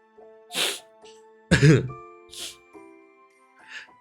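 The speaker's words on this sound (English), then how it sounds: "Sorry if you guys hear me sniffing a bit" Three short, breathy sniffs close to the microphone, spaced a second or two apart, with a throat-clearing sound between them over faint tinkling tones.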